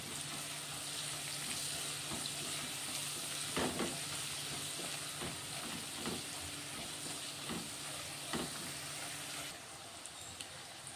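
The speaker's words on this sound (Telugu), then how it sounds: "ఇప్పుడు ఇందులోనైతే కొంచెం అల్లం వెల్లుల్లి పేస్ట్ వేసుకుంటా. అలాగే కొంచెం పసుపు వేసుకుందాం. ఇప్పుడు ఇవి ఒకసారి కలిపేసుకుంటాం." Ginger garlic paste and turmeric sizzle in a pan as a spoon stirs them, giving a continuous hissing fry with occasional scraping knocks, fairly close, no one speaking.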